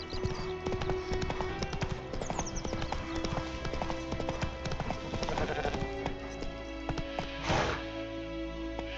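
Hooves of Roach, Geralt's horse in The Witcher 3: Wild Hunt, in a steady galloping clip-clop that stays loud and close throughout, layered with game music and ambience, no talk.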